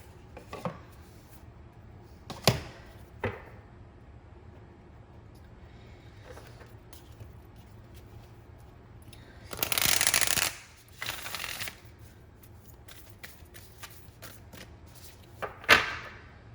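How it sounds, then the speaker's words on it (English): A Work Your Light Oracle card deck is shuffled and handled, with soft riffles and taps and one longer burst of rapid card shuffling in the middle, close up and quiet, with no talking. "I'm going to pull a few cards from the Work Your Light Oracle deck from Rebecca Campbell."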